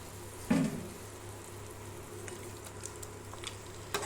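Goat head meat curry being stirred through masala in a pan, a soft bubbling sizzle with a knock of the spoon early on and faint scraping clicks scattered after, no talk.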